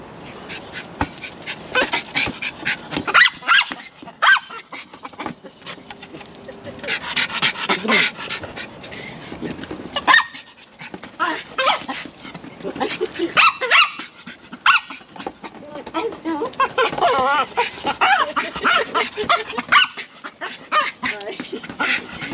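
A dog pants heavily and lets out loud, scattered barks and yips, close by, with some human voices mixed in at times.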